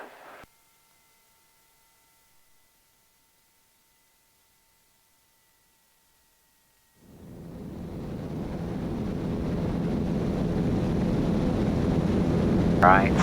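A light aircraft engine winds up to full power for the takeoff roll, a broad droning roar rising from silence after several seconds and holding steady and loud, with a pilot talking over it.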